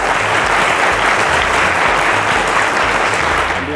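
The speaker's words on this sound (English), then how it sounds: "A round of applause to Mr. Abiodun Abdul." A studio audience at a teachers' quiz show applauds a second-place finisher with loud, continuous, even clapping throughout, over a low rhythmic musical beat.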